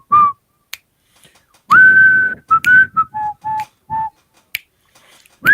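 A person whistles a tune, a clear, close melody of held and stepped notes broken by short pauses, with a few sharp snap-like clicks between phrases.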